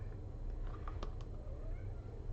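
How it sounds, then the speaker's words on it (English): A house cat meows softly a few times, faint and somewhat distant, over a constant low room hum while someone works on handmade dice. "I hear a kitty cat."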